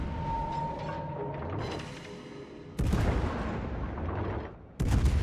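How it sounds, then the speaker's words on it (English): Ship guns fire singly in a naval video game, aboard a Des Moines cruiser: two heavy, booming shots land a couple of seconds apart over a low background rumble, with no talk. "I'm actually single firing my guns right now"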